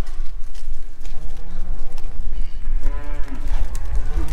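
Several cows moo loudly and close by, their low drawn-out calls overlapping above a steady rumble of outdoor noise.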